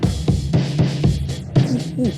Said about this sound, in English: How about some distortion?